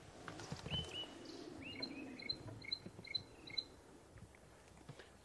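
A warbler calls from the treetops during a sunrise safari drive, giving a short run of high, thin, evenly spaced chirps, faint and distant over quiet rustling and a few low thumps, with no talking.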